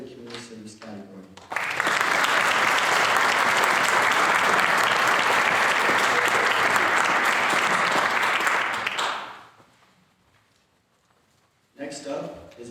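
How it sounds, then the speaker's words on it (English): A crowd at a county youth awards event claps loudly and evenly for a nominee for about eight seconds, then the clapping dies away to near silence before a voice resumes. "Please help me in applauding Colton Barsness for being nominated in the Civic Community Service category."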